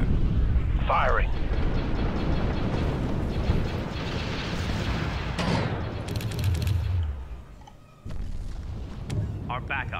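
Starship weapons fire and rumbling explosions in the space strategy game Sins of a Solar Empire, a dense, loud barrage of blasts and cracks with short chirping effects and a game voice over the top.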